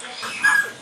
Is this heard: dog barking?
yes